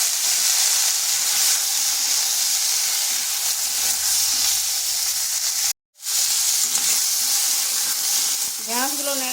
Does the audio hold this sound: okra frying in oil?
yes